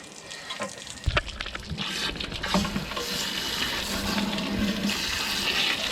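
Water rushing through a hose to flush out an RV hot water heater, a continuous hissing gush with some gurgling and a few knocks near the start, moderately loud and steady.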